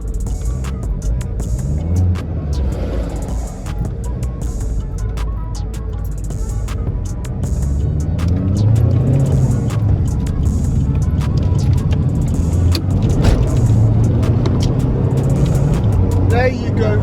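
A stage 1 remapped Vauxhall Insignia 2L diesel drives along and then pulls in, its low engine drone running steadily under someone talking throughout.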